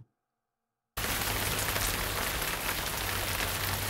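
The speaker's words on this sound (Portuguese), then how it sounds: "Som de chuva!" Steady rain starts abruptly after a moment of silence, then holds as an even, dense hiss of drops falling on a surface throughout.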